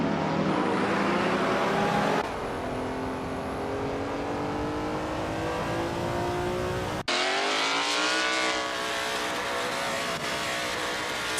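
A 1988 Rondo M379 Group C2 sports prototype races in a video game. Its loud, close engine climbs in pitch through the gears, with abrupt cuts at each shift before revving up again.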